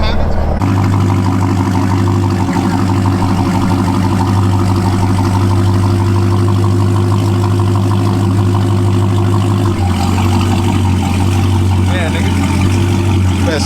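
Loud car engine with illegally modified exhaust idling nearby, a deep steady rumble holding constant for the whole stretch, with people talking over it.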